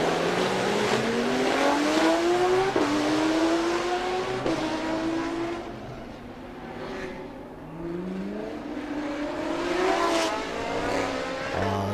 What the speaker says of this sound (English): We get a sense of the brutal engine power out of these cars